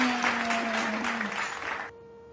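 A group of kindergarten children claps hands during an online lesson, a short burst of quick, uneven clapping over a steady electronic hum that cuts off abruptly.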